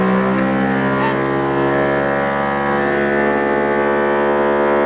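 Vacuum pump of a mini OCA laminating machine running during an iPhone 6 Plus screen glass repair, a loud steady electric hum with layered tonal drone holding constant throughout.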